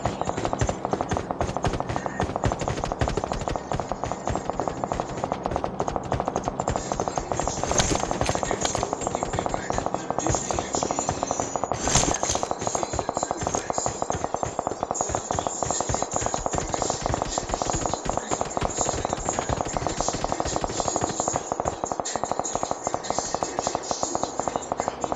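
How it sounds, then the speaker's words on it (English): Dense, continuous rapid gunfire crackles throughout, bursts overlapping with little pause, loud and busy from start to finish, in PUBG. "There's a lot of gunshots"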